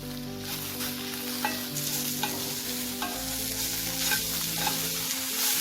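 Potato and pointed gourd peels fry with turmeric on a slow flame while being stirred. A steady, close sizzle carries periodic scraping strokes, with a faint tonal background beneath.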